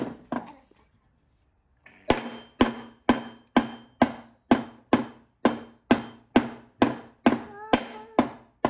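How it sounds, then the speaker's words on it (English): A few light taps, a brief pause, then about a dozen sharp hammer blows driving a wooden dowel, evenly spaced and loud. "Okay, take your hammer."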